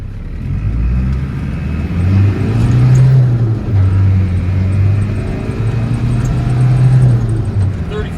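A 1992 Land Rover Defender 110 with the 200Tdi diesel and LT77 gearbox accelerates at full throttle, a loud steady low engine drone that rises and holds close throughout, with no talk over it.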